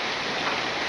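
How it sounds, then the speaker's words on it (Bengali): Steady rain falls on a village during a day of on-and-off showers, a dense, even wash of drops heard close and fairly loud with no voices over it. "যখন আবার বৃষ্টি হইতেছে"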